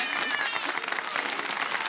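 Studio audience applause, a dense burst of clapping filling the room close and fairly loud, steady for a brief moment.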